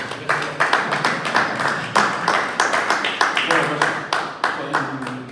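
Audience at a book presentation in Trapagaran applauding the author's wife, a fairly close, moderate round of individual claps in an uneven rhythm, with talk underneath.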